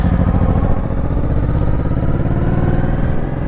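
A 2007 Honda Shadow Spirit VT1100C V-twin cruiser runs steadily nearby, a loud, even low engine rumble with a slight throbbing pulse, no speech over it.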